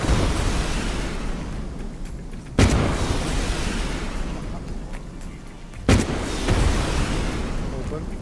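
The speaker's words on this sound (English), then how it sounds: "I'm shooting, taking turns." Gunshots in the survival game DayZ, two sharp loud cracks several seconds apart over a dense, rumbling background wash of game noise.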